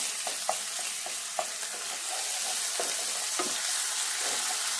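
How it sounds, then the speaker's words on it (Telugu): Onions frying with ginger garlic paste in a pan for a dried fish curry, a steady close sizzle broken by scattered soft stirring scrapes and pops. "ఈ ఉల్లిపాయ మంచిగా ఇట్లా వేగాలి, మంచిగా ఫ్రై కావాలి"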